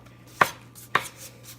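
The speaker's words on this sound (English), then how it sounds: "So, I'm just chopping it up." Knife chopping cooked chicken on a cutting board for a sweet savory chicken salad: two sharp, close thuds about half a second apart over a faint steady hum, with no talking.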